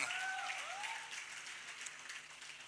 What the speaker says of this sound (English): I'd like to hear a round of applause for a man.